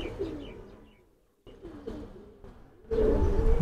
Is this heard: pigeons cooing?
yes